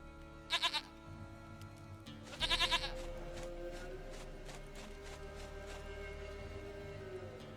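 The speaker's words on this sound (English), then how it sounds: "Goat of mine, dearest, sweetest goat." Goats in The Witcher 3 bleat in two short bursts of quavering cries, close and fairly loud, over a steady game backdrop of low ambience and music.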